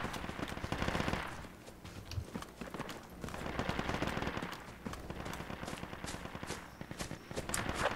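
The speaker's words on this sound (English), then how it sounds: "That was enemy fire to the north" Enemy gunfire in a video game, bursts of rapid machine-gun fire and shots rattling in waves at moderate distance, rising and falling over several seconds with no voices.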